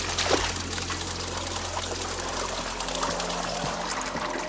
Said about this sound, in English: Whoops, we gotta fill it with water.